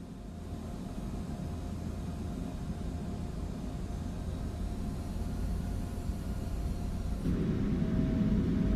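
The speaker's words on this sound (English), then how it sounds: "Spool up the engines." Embraer E175 regional jet engines in a flight simulator spool up steadily, a broad continuous roar and hum that builds and swells louder near the end, with no voices.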